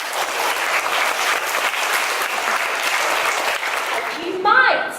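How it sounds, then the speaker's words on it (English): A crowd gives a round of applause at a Festac '77 retrospect exhibition celebration, dense and sustained at an even level, then breaking off near the end as a voice starts to speak. "I want you to give a huge round of applause to the Arts Foundation"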